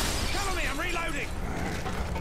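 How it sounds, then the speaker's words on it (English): A weapon reload in the shooter Call of Duty MW2 gives a quick run of mechanical clicks and ratcheting metal over busy gunfight background noise. "Cover me, I'm reloading."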